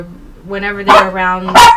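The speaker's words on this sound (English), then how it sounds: "sorry, that's my dog." A pet dog barks twice indoors, close and loud, the yelps cutting over someone talking.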